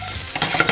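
Onions sizzle and crackle in a hot pan for an Indian masala dish, close and loud, with scraping stirring strokes and sharp pops near the end; no talking.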